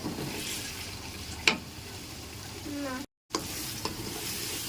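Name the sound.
frying tomatoes and onions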